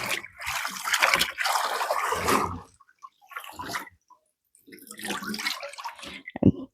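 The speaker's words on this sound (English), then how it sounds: "So what I'm doing now is basically sort of washing them off" Callaloo leaves are swished and shaken in a basin of salt water, giving loud close sloshing and splashing in bursts with short quiet gaps between them.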